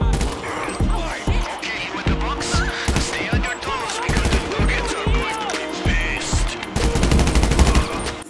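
Video game mission gunfight with rapid automatic bursts and single shots, loud and dense throughout, overlaid by in-game effects and a voice talking.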